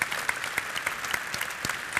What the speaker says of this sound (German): an der Stelle ist ein Applaus für Frank Schäffler übrigens angebracht